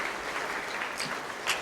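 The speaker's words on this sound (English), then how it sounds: "let's give him a round of applause" Steady applause from a crowd at a September 11 memorial presentation, continuous clapping at a moderate level throughout.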